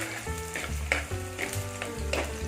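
Sliced shallots frying in a pan of oil for a Tamil tamarind fish curry, giving a steady close sizzle with bursts of stirring, no talk.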